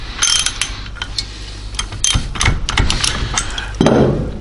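Stud removal tool ratcheting on a cylinder head stud during an A-Series engine rebuild: close, dry metallic clicks and grinding in an irregular run of short bursts.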